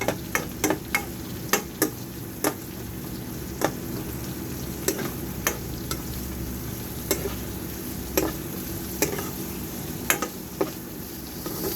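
Garlic sautéing in a pan fills the clip with a steady, close sizzle, broken by sharp, irregular clicks and scrapes of a spatula stirring against the metal.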